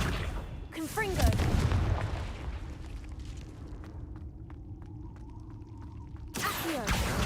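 Confringo fire-blast spell cast in Hogwarts Legacy, a booming burst with whooshing rumble that fades into a sustained low roar before another loud blast at the end, with a voice speaking at the start.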